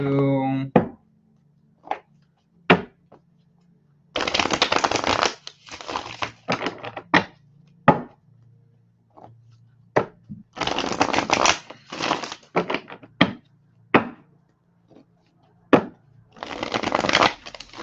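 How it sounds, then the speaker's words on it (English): A Light Seers tarot deck is shuffled in bursts of riffling and card slaps, close and loud, with quiet gaps between the bursts. "Patricia, I don't know why I'm shuffling so much for you."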